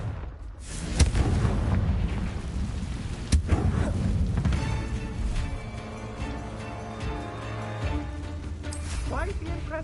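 Fiery Confringo spell blasts in Hogwarts Legacy, a sharp boom near the start and another burst midway over dense rumbling combat noise and music.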